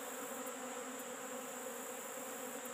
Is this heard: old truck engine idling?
no